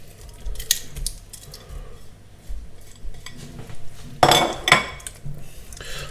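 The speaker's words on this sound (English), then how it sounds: "So that's our chunks of gammon in there, get that mixed around." Chunks of gammon stirred into creamy mushrooms and leeks in a pan: scraping and clinking of a utensil against the pan in uneven strokes, with a couple of louder clatters near the end, close and without talk.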